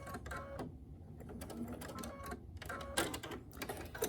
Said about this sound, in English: I'm going to lock this stitch in.